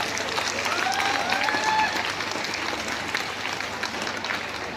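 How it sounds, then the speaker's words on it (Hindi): Audience at a welcoming ceremony giving a loud round of applause, a dense, fairly close wash of clapping that swells then gradually eases over several seconds. "एक बार पुनः जोरदार ताली बजाएंगे।"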